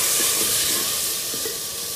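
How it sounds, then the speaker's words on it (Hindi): Spices sizzle in hot oil for a tadka on a wood-fired village stove, a steady close hiss with faint crackles and no talking. "मसाले को तड़का लगा रहे हैं।"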